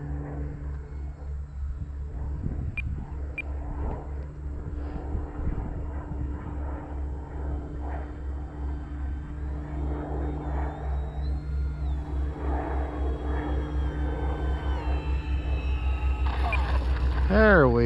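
A G44 Widgeon RC model seaplane coming in to land, its small engine humming and rising in the distance over a steady low rumble, with the pilot talking throughout.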